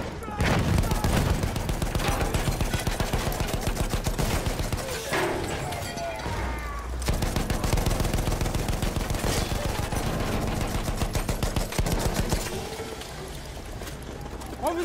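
Enemy machine gun fire in Battlefield 1, a steady rapid rattle of shots running almost nonstop beneath battle noise and shouted voices, loud and close.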